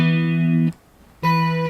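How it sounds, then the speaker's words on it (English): Two sustained electric guitar power chords built on E with its fifth B, the first ringing about 0.7 seconds, then a short gap and a second strum held for half a second, loud and clear with no voices. "If you played that as a power chord, it just sounds like this."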